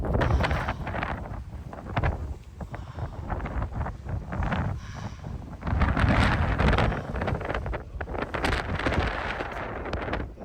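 Strong gusting wind during a windstorm on a steep, rocky mountain trail of the Patagonia W Trek, loud buffeting and roaring in waves against the microphone, with no voices.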